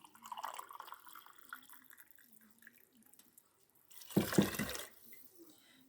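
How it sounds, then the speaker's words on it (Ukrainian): Boiled water poured into a pot of buckwheat with broth, a short splashing pour of about a second near the end, fairly close, after quiet kitchen sounds. "Тут якраз ось буде чашка і доливаю водичкою кипяченою."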